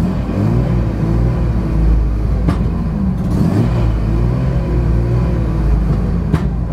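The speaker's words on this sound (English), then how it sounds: "my foot's on the pedal right now, trying to keep the RPM up." Mazda RX-7 FD rotary engine held at raised revs with the pedal pressed, a loud steady low rumble with a wavering buzzy tone and a few brief sharp bursts over it.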